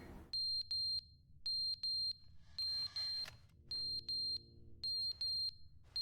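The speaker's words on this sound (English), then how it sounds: "Why is it beeping? Why are you beeping?" Repeated electronic beeping like a smoke detector, steady high-pitched beeps in short pairs and bursts over a quiet background, with a brief rustle in the middle.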